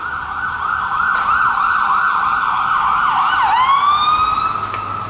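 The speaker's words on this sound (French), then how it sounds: "Une ambulance, tu vois." An ambulance siren passes outside a balcony, its loud wailing sweeps rising and falling continuously, then dipping sharply as the vehicle goes by, with no talk over it.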